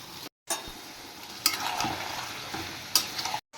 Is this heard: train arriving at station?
no